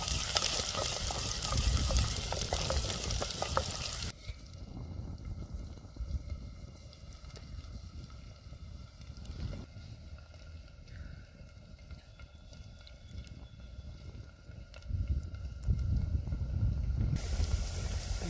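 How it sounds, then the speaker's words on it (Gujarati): Green chillies, with onions, frying and roasting in a pan for a Kathiyawadi vaghareli rotlo: a loud, hissing sizzle that drops to a softer crackle for a long stretch, then surges back louder near the end, no voices. "લીલા મરચાં નાખી દઈશું થોડા હરવાર શેકાઈ જાય નાખશું"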